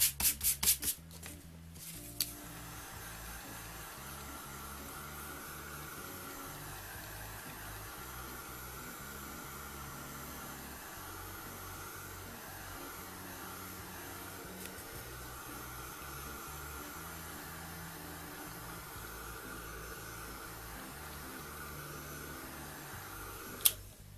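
A heat tool blows steadily for the whole stretch, drying embossing ink on a card, a continuous airy whoosh with a low hum and a few faint clicks near the start.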